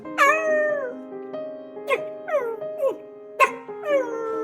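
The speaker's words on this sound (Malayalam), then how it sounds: "ഒരു വേസ്റ്റ് ബോക്സിൽ നിന്നും ഒരു പട്ടിക്കുഞ്ഞിന്റെ കരച്ചിൽ അവർ" An abandoned puppy in a waste box cries in a series of high, wavering whimpers and yelps, close and clear, repeating about five or six times against a quiet background.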